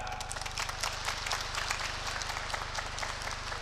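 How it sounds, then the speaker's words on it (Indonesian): Graduation ceremony audience giving sustained, dense applause, many hands clapping together in an even roar that holds steady throughout with no pause. "Tepuk tangan yang meriah."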